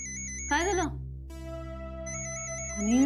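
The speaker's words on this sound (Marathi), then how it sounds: "अनिलचा फोन येतोय" A mobile phone rings indoors with short repeating electronic tones, two bursts separated by a gap, while people talk briefly between the rings.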